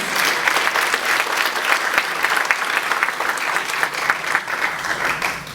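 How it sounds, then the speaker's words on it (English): A full round of audience applause at a business IT workshop, loud, dense and sustained clapping from a large crowd with no pause, close and filling the space. "A round of applause, please."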